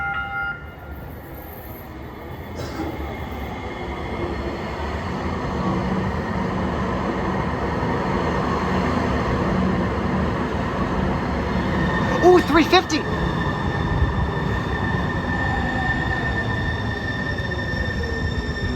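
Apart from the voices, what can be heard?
train arriving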